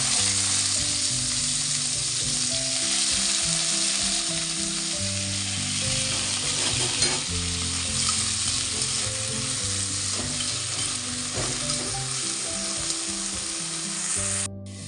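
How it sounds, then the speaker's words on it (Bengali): Potato and carrot pieces fry with nigella seeds in hot oil, giving a loud continuous sizzle with occasional stirring scrapes throughout. "কালো জিরা ফোড়ন দিয়ে দিলাম, আর এই যে আলু গাজর ভাজা"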